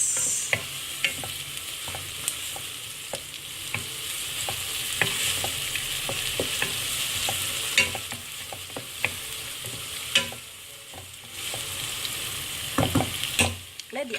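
Onions frying with curry leaves and green chilies for a Sri Lankan fish curry sizzle steadily up close, with frequent spoon scrapes and taps while they are stirred, no voice.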